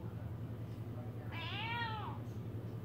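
A single drawn-out cat meow, clear but fairly soft, rising and falling over a low steady hum.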